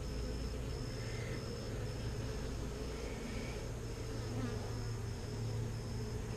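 Honeybees buzz steadily and close around an opened nuc hive during a gloveless inspection in Texas, a dense continuous drone with no talking.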